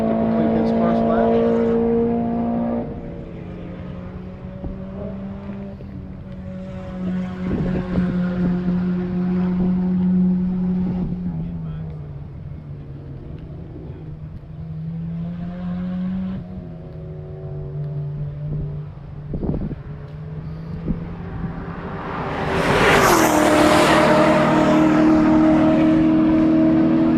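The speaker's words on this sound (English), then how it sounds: "the Mile High M3 comes through to complete his first lap" BMW M3 race car passing on a racetrack, its engine droning at fluctuating pitch as it accelerates and shifts, heard at moderate distance under steady commentary, then swelling louder near the end.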